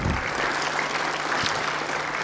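Audience applause welcoming a minister to the lectern at a debate, a steady dense clapping wash from a crowd, loud and continuous throughout.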